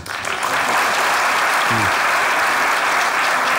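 Loud, sustained applause from a studio audience at a Turkish comedy sketch show, continuous dense clapping throughout, with a brief voice surfacing midway.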